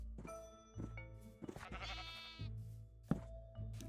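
Sheep bleat in a video game farm, several short bleats in quick succession over a steady backdrop of in-game music or ambience, close and fairly clear.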